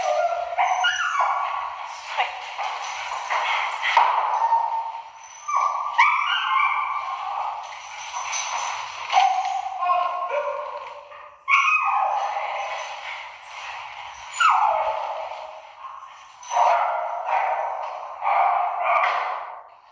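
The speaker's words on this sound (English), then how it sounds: "you can hear the dog squealing and barking" A dog squeals and yelps repeatedly in high, whining bursts mixed with barks, loud and close, continuing throughout.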